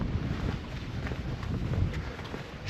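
Gusting wind buffets the microphone on a windy day while cycling through an old village in Obernai, France, a steady broadband rumble that swells and eases throughout, with no speech.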